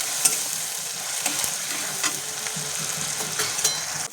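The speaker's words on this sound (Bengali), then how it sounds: "আমি এবার এখানে 1 চা চামচ আদা রসুন বাটা দিয়ে আমি আরও কিছুক্ষণ ভালো করে কষিয়ে নেব" Ginger garlic paste sautés with onions in a hot pan for moong dal, giving a continuous sizzle. Scraping stirs and sharp clicks break through it at irregular moments, with no talk.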